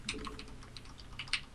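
A computer keyboard struck and typed on during a StarCraft 2 match, a short burst of quick, uneven key clicks with a few sharper hits, close and fairly quiet.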